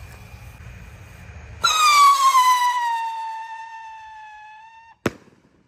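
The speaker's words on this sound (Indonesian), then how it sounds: "di sini ada roket Pyro roketar Roman candle yang warna biru guys. Kita nyalakan untuk pemanasannya ya. Sudah menyala, siap meluncur." A blue Pyro Roman candle firework launches with a sudden loud burst and a long descending whistle that fades over a few seconds, ending in one sharp pop outdoors.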